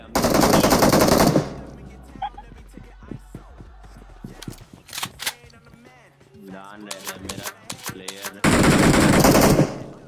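Double-barrel shotgun blasts in a mobile battle-royale game: a loud, dense burst of gunfire right at the start and another near the end, with quieter game noises and some voice activity in between.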